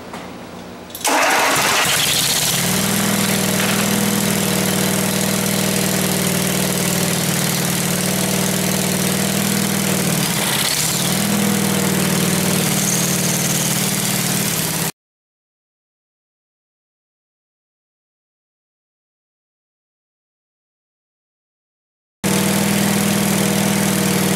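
An old twin-cylinder engine, choked for starting, cranks and catches, then idles with a steady loud throb. It cuts to silence briefly, then the idle resumes.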